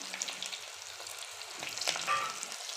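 Dried red chillies, garlic and shallots frying in oil for village-style vegetable sambar, a faint crackling sizzle with brief sharp pops and a short metallic clink near the end.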